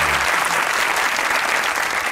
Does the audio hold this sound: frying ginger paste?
no